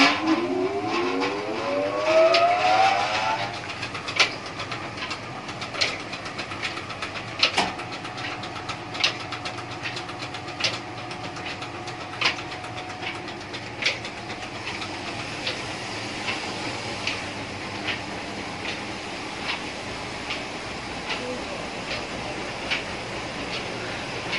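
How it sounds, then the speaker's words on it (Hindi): An electric motor driving a village flour mill (chakki) in Punjab, Pakistan whirs up with a rising whine over the first few seconds, then settles into a steady mechanical drone with regular sharp clicks. "अब ये मोटर आ गई है ये मोटर लगी हुई है अब ये इस पर चलाते हैं"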